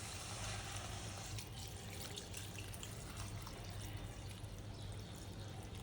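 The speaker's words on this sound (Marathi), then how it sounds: "आता आपण याच्यामध्ये पाणी टाकूया" Water is poured into a wok of chopped bharangi greens, giving a faint, continuous splashing trickle with soft spatters throughout and no talking.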